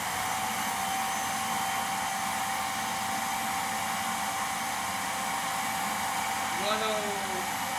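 Vacuum cleaner motor running steadily during a suction test, a loud continuous whine holding one pitch throughout with no talk over it.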